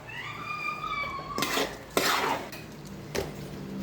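Chicken with salt and turmeric being stirred in a metal pot, a few scraping, clanking spoon strokes against the pot over quiet background hiss, no talking.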